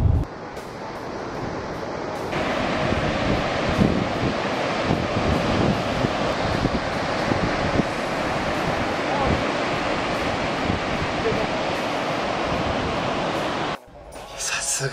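Steady broadband roar of ocean surf breaking at a well-known surf point in late afternoon, continuous and fairly loud with wind buffeting the microphone, cutting off abruptly near the end.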